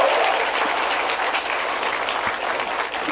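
Crowd applauding steadily at a 10-ball pool world championship match in Vietnam, a dense, continuous clatter of clapping that stays loud and even throughout, with no voices standing out.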